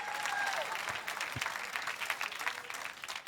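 An audience in a church service applauds, a dense steady wash of clapping hands that carries on for several seconds at moderate loudness, with a few louder individual claps and faint voices mixed in.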